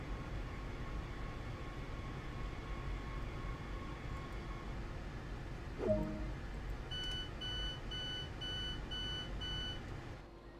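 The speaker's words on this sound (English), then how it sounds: "Even the door signal is the exact same sound for Thameslink." Door warning signal on a Thameslink-style train in Train Sim World, a steady series of regular electronic beeps over the low rumble of a stopped train, after a brief clunk, with no talking.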